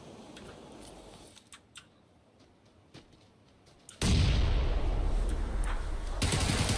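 Sharp scattered gunshots and small pops in a shooter game, followed by a sudden loud grenade blast that leaves a sustained heavy roar, no talk over it.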